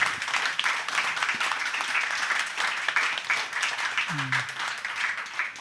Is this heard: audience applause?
yes